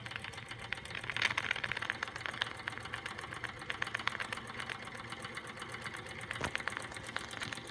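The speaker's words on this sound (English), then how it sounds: "That's a running D455." A Wilesco D455 model steam engine runs with a rapid, even mechanical ticking and light clatter. A soft hiss sits beneath the close, steady beat, which continues without a break.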